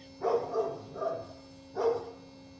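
A dog barks three times in short, mid-loud bursts, with a steady low hum underneath.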